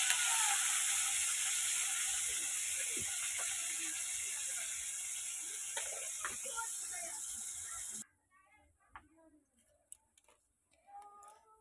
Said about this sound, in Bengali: এই যে দিয়ে দিচ্ছি কড়াইতে পেঁয়াজ লঙ্কা ভাজা করার জন্য